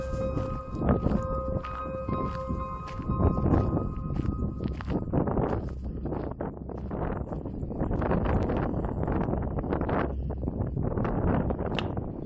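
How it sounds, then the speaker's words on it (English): Strong wind buffets the microphone in continuous rumbling gusts, with rustling and scuffing underneath and no voices, outdoors at Gimbal and Cedar Cove, Newfoundland. "it's pretty windy out here"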